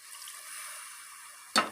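Water poured into a pan of frying cauliflower and potatoes for aloo gobi, a sudden loud hiss and sizzle bursting near the end after steady low frying noise.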